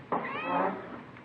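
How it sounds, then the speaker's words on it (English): A Siamese cat gives one drawn-out, wavering meow close by, rising and then fading over about a second, heard alone without talk. "It's a nice cat you got there. Siamese?"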